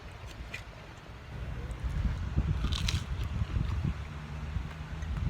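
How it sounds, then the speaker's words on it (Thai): Crispy hot fried shrimp is bitten into on a beach in Rayong, Thailand, a couple of close crunchy bites over low wind and outdoor background noise. "ร้อนๆอยู่ ร้อนมาก กรอบร้อน อร่อยนะ"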